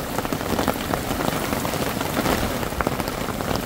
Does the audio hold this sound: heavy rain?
yes